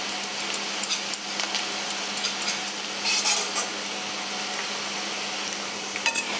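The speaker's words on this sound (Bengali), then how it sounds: "পেঁয়াজটা খুব সুন্দরভাবে ভাজা হয়েছে" Onions being fried into crisp golden birista in a pan, a steady broad sizzle with scattered scraping and clinking of a utensil stirring, one busier burst midway.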